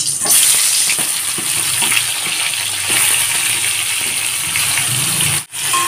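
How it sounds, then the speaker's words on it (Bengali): Pointed gourd pieces coated in salt and turmeric hit hot mustard oil in a wok, setting off a loud, steady sizzle and crackle with scattered spatters and stirring scrapes, briefly cutting out near the end. "এখন পটলগুলোকে দিয়ে ভেজে নেব।"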